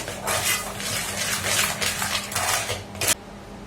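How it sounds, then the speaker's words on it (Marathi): A spoon clinks and scrapes against a bowl while sugar is stirred into thick mango pulp for aamras, several quick close metallic strokes with a sharp knock near the end and no talk. "साखर आपण यात घालून घेणार आहोत आणि छान याला मिक्स करून घ्यायचं आहे"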